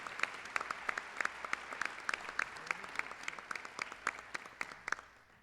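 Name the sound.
audience applause at city address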